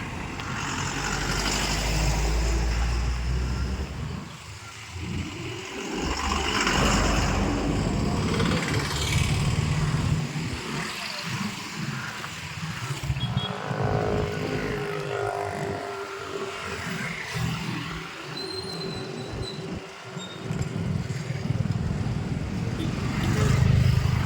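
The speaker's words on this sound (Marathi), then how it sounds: "आल्यात गाड्या आता." Cars, trucks and motorbikes going past on a busy road, a string of close engine swells and tyre roar rising and fading repeatedly, with wind buffeting in the background.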